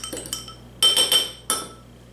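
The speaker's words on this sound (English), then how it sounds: "Go ahead and whisk that together." A whisk clinks quickly against a glass bowl while beating a mixture seasoned with salt and black pepper, in three short bursts of bright, ringing taps, close and clear.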